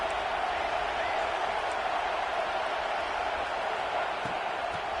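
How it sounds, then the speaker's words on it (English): A college football stadium crowd roars at full throat, a steady, loud, unbroken wall of cheering voices that fills the whole clip. "This crowd, full throat, spreading the eardrums and letting them know it's going to be a long day."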